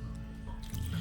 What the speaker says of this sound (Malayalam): ആവശ്യമനുസരിച്ച് വെള്ളം കൂടി ഒഴിച്ചിട്ട്